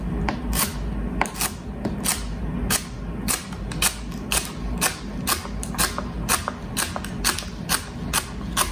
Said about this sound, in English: we're gonna cut these into 1/3 inch slices